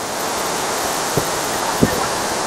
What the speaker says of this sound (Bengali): এখান থেকে দেখো জলটা কত স্পিডে পড়ছে